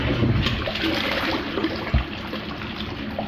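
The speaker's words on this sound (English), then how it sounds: "Let's do a few flushes." A toilet built into a carved wooden dragon throne sculpture flushes with a loud, continuous rush of swirling water up close, steady throughout with a brief clunk near the end.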